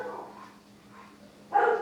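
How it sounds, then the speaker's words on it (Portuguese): Dogs bark near a church gathering space, a muffled bark or two early on, then a louder sharp bark near the end against a quiet background. "Algumas vezes podemos estar sendo interrompidos pela latido dos cachorros"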